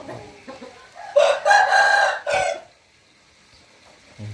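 A ten-month-old rooster crows once up close, a loud, strained crow of just over a second, with quiet clucking before it and silence after.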